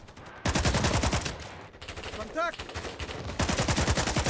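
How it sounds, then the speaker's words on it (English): An AK rifle fires on full auto in the game '83, with loud rapid bursts in quick succession. There is a short break in the middle, then another burst. Faint talk sits underneath. "The AK is pretty damn accurate in full auto."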